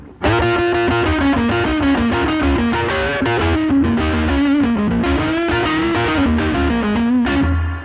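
Distorted electric guitar plays a melodic line of double stops, loud and sustained, with effects coloring the tone and no voices.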